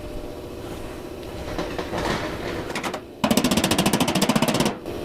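Metal sheet being shaped for a DIY fuel tank, clamped and tapped with a hammer, first as irregular knocks and then as a fast, even burst of sharp close blows that stops abruptly.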